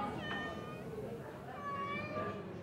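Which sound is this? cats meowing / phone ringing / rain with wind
cats meowing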